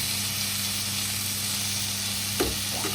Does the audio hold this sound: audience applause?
no